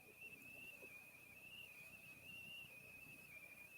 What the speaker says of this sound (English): There's a little bit of a whistling in the background.